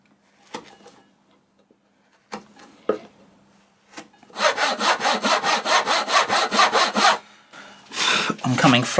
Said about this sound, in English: Then all my sawing is concentrated up on this top corner first.